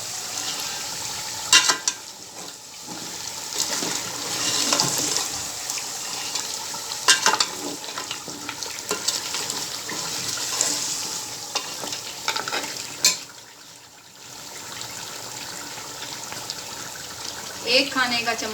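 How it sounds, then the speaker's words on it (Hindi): Beef trotters with turmeric sautéing in a pan, with an ongoing sizzle and irregular stirring scrapes up close, a brief pause near the end, and a voice speaking over part of it. "हल्दी डाल के इसे 2 से 3 मिनट के लिए भूनेंगे हम"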